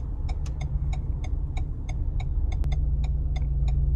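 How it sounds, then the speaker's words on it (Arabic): Right turn signal of a 2021 Renault Megane ticking at a steady, even rhythm, about a dozen crisp clicks close by inside the cabin over a low idling engine hum, with no talking. "راح احط اشارة يمين عشان احدد للسيارة انه الاتجاه يمين"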